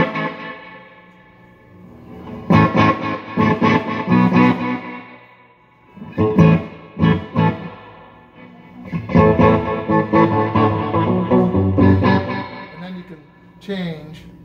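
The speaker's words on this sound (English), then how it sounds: "There's the echo. At that setting, we're just hearing the repeated signals," Electric guitar chords run through an Echoplex EP-2 tape echo set to output only the repeats, giving three loud, smeared bursts of echoing strums with short gaps between them.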